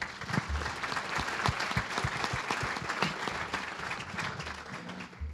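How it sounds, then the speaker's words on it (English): Applause from a seated audience at a university centennial celebration event, a steady crackle of many hands clapping with distinct individual claps audible, moderately loud and continuous for several seconds. "Let's give everyone a round of applause there."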